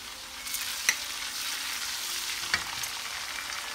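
Ginger and garlic fry with browning onions in a pan for chicken kofta curry. A gentle steady sizzle is broken by two sharp spoon taps against the pan.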